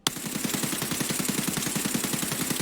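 Rapid automatic rifle fire from a long-barrelled weapon fired while crouched in Escape from Tarkov, a fast even stream of close, loud shots lasting the whole stretch after a sharp first report.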